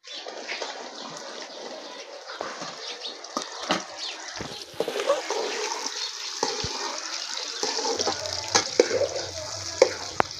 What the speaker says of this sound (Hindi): मैंने कहा चलो इधर भिंडी फ्राई कर लेते हैं।